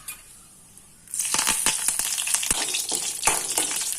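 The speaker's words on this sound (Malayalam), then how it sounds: "കടുക് നന്നായിട്ട് പൊട്ടിക്കഴിയുമ്പോൾ ഇതിലേക്ക് രണ്ട് വറ്റൽ മുളക് ഇടാം ഇനി കുറച്ച് കറിവേപ്പിലേക്കൂടി കൂടി ചേർക്കാം" Mustard seeds, two dried red chillies and curry leaves crackle and sizzle in hot oil for a palappam side dish, a loud continuous frying hiss bursting in after a quiet second, with sharp popping spatters throughout.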